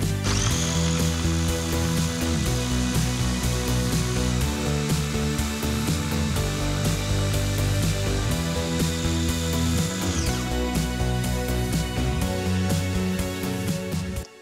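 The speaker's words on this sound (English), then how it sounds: "put the lid on, puree it a little bit, and add the olive oil gradually" Blender pureeing garlic with olive oil: a loud, continuous motor whir with shifting pitch as the contents churn, holding steady at close range and cutting off at the end, with no talking.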